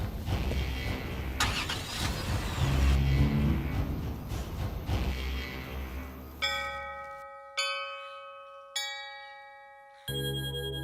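A car pulling out with its engine revving in a dramatic scene, a loud rumbling surge for several seconds that then gives way to bright, ringing chime-like tones.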